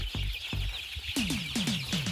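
Three-week-old laying-hen chicks cluck close by in a quick series of short, sharp calls, coming faster toward the end, with no talk.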